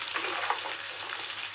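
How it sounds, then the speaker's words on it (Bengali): Boiled, peeled potatoes fry in hot oil, giving a brief, soft, steady sizzle without speech. "এবার আমি এটাকে ভেজে নিচ্ছি। ভালো করে ভেজে দেবো।"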